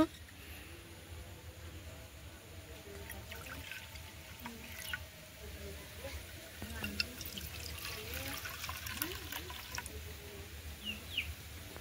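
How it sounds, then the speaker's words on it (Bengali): Green coconut water pours into bowls outdoors as a steady, moderate trickle over a constant noisy background, with birds chirping faintly now and then. "আমরা আজকে বাটিতে করে মেপে জল খাবো।"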